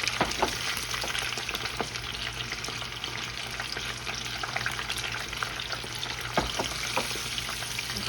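Shrimp tempura with tails left on deep frying in hot oil, a continuous close sizzle with crackling pops scattered throughout.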